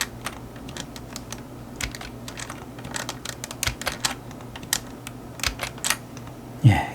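Keyboard shortcuts are typed on a computer keyboard, making a rapid, irregular series of close, crisp key clicks with occasional heavier presses and a louder knock at the end.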